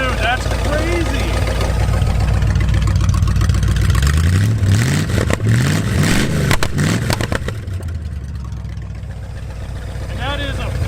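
An abandoned muscle car's engine with a 4-barrel carburetor on a 2-barrel intake idles steadily and close by after its first start in 35 years, with a brief rise in revs midway, while people talk over it.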